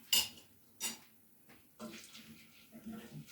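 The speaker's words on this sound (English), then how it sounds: "We're just going to continue to stir this." A pot of rice and pigeon peas being stirred with a utensil, several distinct scraping knocks against the pot with quieter stirring between, a voice faintly present.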